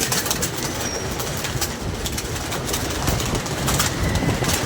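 Pigeons are being driven back into their loft, heard as a dense, steady wash of bird noise and soft cooing that fills the scene throughout, with no talk.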